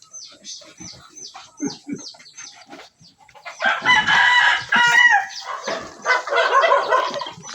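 Roosters crow repeatedly on a rural Philippine farm with goats and turkeys, several clear cock-a-doodle-doo calls near and loud, with clucking fowl, faint talk and a distant dog at the start.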